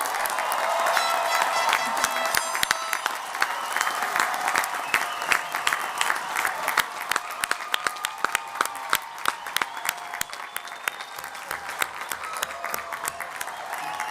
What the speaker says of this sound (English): You may now applaud the graduates.